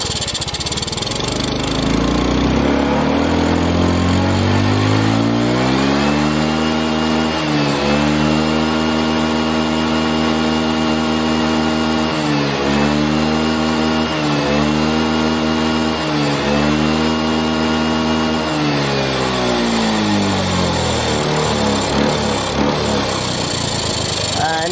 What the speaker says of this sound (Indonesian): Ini tadi kan sudah saya gas sampai limit RPM-nya ya